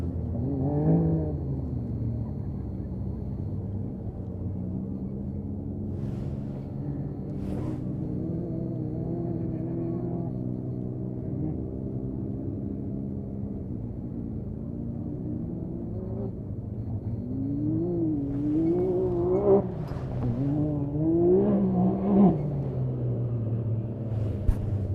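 Can-Am side-by-side, number 669, racing at a dirt race event, its engine a steady distant rumble rising and falling as it passes, ending in a louder revving surge.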